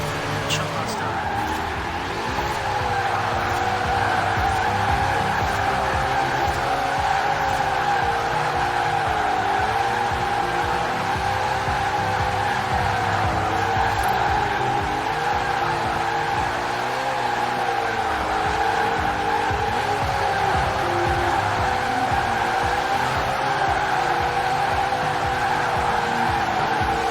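Forza Horizon 4 car drifting: a steady, continuous tire squeal and engine drone hold for nearly half a minute, wavering in pitch as the car slides through turns, loud and unbroken throughout.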